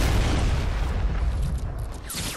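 A guided missile blows up in Fortnite with a loud, close, rumbling boom that fills the whole short moment and then fades slightly toward the end.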